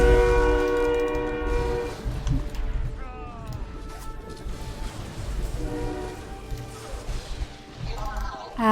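A freight train rumbles past close by, its loud horn blaring in long, sustained tones over the low roar of rolling railcars, with a person talking over the noise.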